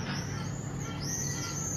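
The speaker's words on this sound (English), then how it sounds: "oh, those are the birds." Birds call outside near a beach in Pula, Croatia, with repeated chirps and whistles over a constant wash of background ambience, moderately distant and faint.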